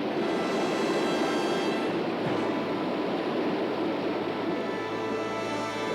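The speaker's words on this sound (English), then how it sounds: "The thunder of the river is awesome." A continuous deep roar of the Colorado River's rapids in the Grand Canyon fills the whole clip, heavy and unbroken, like powerful river rapids heard from nearby.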